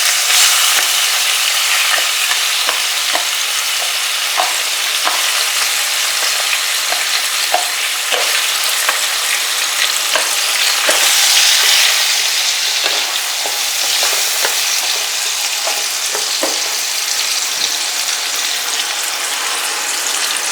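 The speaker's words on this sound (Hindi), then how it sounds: "सबसे पहले हम इसमें टमाटर डाल देंगे।" Tomatoes hit a hot pan for a cucumber sabzi, setting off a loud, continuous sizzle and fry with frequent stirring scrapes and clicks, close and steady for the whole stretch.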